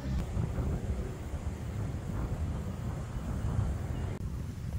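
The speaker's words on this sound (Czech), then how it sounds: "strašně tady fouká vítr" Strong wind buffets the microphone beside the Muddy River in Australia, a continuous low roaring rumble with gusty swells throughout.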